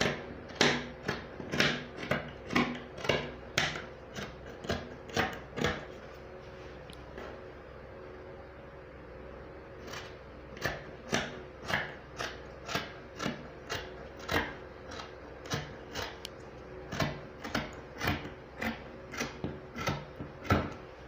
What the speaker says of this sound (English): So I'm going to cut out my sleeve.